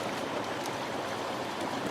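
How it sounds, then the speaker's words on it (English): Creek water flows in a steady, close rushing wash with faint splashy detail, continuous and without speech. "we are at this creek"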